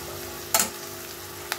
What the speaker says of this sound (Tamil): இனிமேல் நம்ம இதையும் நல்லாவே வதக்கிடலாம்